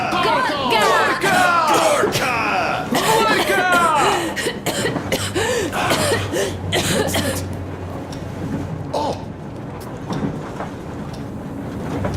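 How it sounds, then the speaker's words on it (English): Coughing from a character in the video game Metro Exodus, harsh bursts heard under and between game dialogue, with background rumble continuing as the talk trails off. "What's that cough?"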